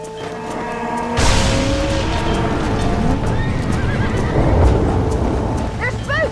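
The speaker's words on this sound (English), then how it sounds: "They're spooked. We have to stop the stampeding." Several spooked horses in Red Dead Redemption whinny and neigh loudly over a heavy rumble of galloping hooves, the stampede bursting in after a second of quieter ambience and staying dense to the end, with sharp high whinnies near the close.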